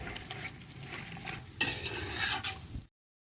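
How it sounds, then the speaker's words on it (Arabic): Food with tomatoes and carrots sizzles in a pot as a utensil stirs and scrapes, the frying growing louder before cutting off abruptly. "ونديهم تقليبه مع بعض لمده دقيقتين"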